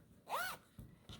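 A zipper on a small sewn fabric pouch is pulled once in a quick, close rasp, followed by two soft handling taps, with no talking.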